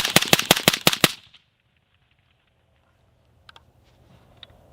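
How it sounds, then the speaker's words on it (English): A Bowers VERS 30 fires about seven sharp gunshots in rapid succession within one second. After the burst there is near silence, with a couple of faint clinks. "We'll fire off a few more rounds so you can get a feel for it somewhat rapidly."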